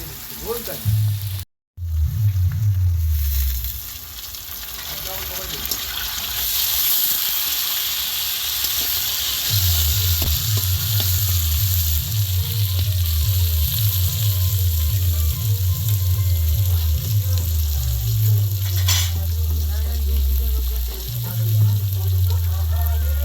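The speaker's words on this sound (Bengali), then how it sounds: "এই গাজরগুলো এবার ভেজে নেব।" Carrots fry in a pan for fried rice, giving a loud, steady sizzle and hiss that runs the whole time, with occasional stirring scrapes and a low, rhythmic pulsing hum underneath.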